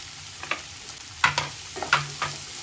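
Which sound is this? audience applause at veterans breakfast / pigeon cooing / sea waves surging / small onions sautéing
small onions sautéing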